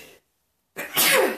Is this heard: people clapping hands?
no